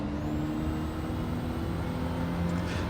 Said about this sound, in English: Here we go then, right, revving it up.